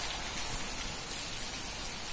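Gusty rain falls outdoors, making a steady broad hiss of drops that stays even and fairly soft throughout, with no voices.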